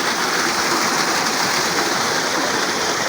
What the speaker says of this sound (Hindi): ये देखिए कितना प्यारा साफ़ पानी चल रहा है यहाँ पे